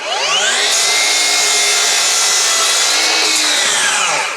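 FLEX miter saw making a bevel cut in wood: a loud, close whine spins up, holds steady through the cut and winds down at the end.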